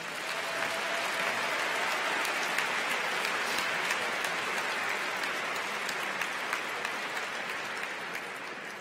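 A large crowd at a University of Minnesota graduation ceremony applauds for faculty and the president, a broad, rain-like wash of clapping that holds steady and tapers slightly at the end.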